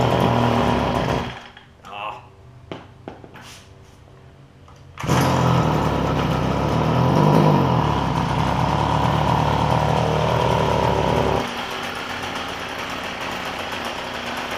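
A Stihl FS45 string trimmer with a freshly replaced carburetor, whose engine bogs down, sits idling close by, a steady small two-stroke drone holding for most of the stretch after a few sputtering pops and a brief lull, with voices speaking over it.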